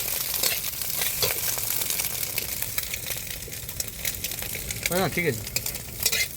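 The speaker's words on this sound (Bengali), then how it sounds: "কড়াতে ডিম দিচ্ছে" Egg frying in a wok (kadai) at an outdoor riverside cooking spot in the Sundarbans, with steady sizzling and scraping stirs throughout, a few sharp utensil clinks and a brief voice near the end.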